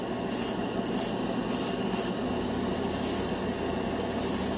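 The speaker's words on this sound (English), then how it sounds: "Make sure you start spraying off of the piece and then come in." Bursts of airbrush spray applying Vallejo Mecha Color yellow paint to a scale model piece, hissing in several short passes with brief pauses between them, close and steady over a constant background hum.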